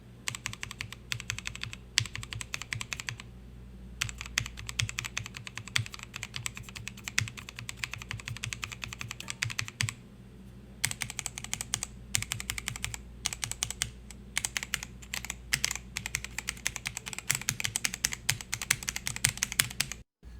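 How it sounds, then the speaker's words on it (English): Steady, fairly quiet typing on a Womier GamaKay K87 hot-swap keyboard fitted with stock Gateron yellow switches and pudding keycaps, rapid light clacks in bursts with a couple of short pauses, close up and alone. "Right side are the stock yellow switches with pudding keycaps."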